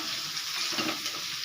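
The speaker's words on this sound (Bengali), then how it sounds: "এটাকে আমি ভালো করে ভেজে নেব" Chopped onion, tomato and green chilli fry in a pan for egg chilli, giving a dense, even sizzle close up throughout, with no voices over it.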